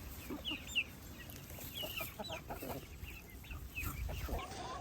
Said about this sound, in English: It's just chickens now.